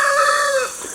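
Homestead turkeys, two hens and a tom, give a loud, close, drawn-out call that falls in pitch and then fades, with no talking over it.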